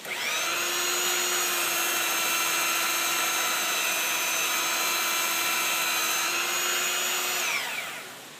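A stationary belt sander whirs steadily at close range for several seconds with a constant high whine, then spins down at the end.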